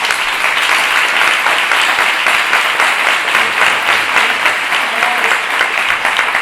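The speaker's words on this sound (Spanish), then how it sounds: "que les demos un fuerte aplauso por haber venido" Sustained audience applause at a nutrition and dietetics congress at the University of La Rioja, steady and dense throughout, with no talk over it.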